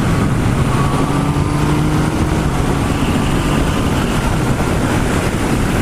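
A Yamaha MT-09 SP motorcycle accelerating in fourth gear on open road, its engine a steady, loud drone mixed with heavy wind rush that persists throughout without pause.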